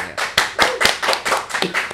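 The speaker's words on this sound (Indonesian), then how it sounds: "Tepuk tangan dong." Small studio audience on a talk show clapping, a short round of loose, uneven hand claps close by, a few distinct slaps per second for about two seconds, with no talk.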